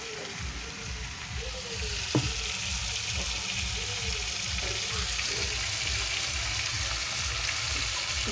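A ground paste of cumin, ginger, garlic and coriander sizzles steadily in a hot pan, a continuous moderate frying hiss with a few soft stirring scrapes and one sharp clink partway through.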